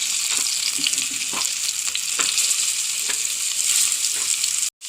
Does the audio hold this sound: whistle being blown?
no